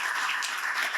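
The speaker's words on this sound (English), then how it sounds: "That applause is for VP of Enrollment Management, Ben Roden, and his amazing team" An audience at a spring college opening session applauds, with dense, even clapping that fills the short moment with no voices over it.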